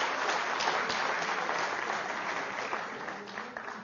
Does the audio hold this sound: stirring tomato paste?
no